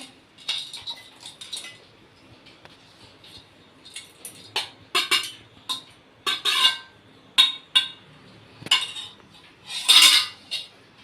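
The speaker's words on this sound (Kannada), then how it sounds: "ಈರುಳ್ಳಿ ಮತ್ತು ಹಸಿಮೆಣಸು ಹೋಲ್ ಸ್ಪೈಸಸನ್ನು ಮಿಕ್ಸಿ ಜಾರಿಗೆ ಹಾಕ್ಕೊಳ್ಬೇಕು" Onion, green chillies and whole spices dropped into a mixer jar for egg green masala, heard as a series of sharp clinks and taps, some louder than others, spaced irregularly with no talking.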